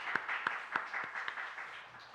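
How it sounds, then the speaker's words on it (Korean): A church congregation gives applause during a Sunday morning service, a soft, sparse patter of claps with several distinct sharp hand strikes standing out, fairly faint and distant. "하나님께 감사의 박수를 드립시다"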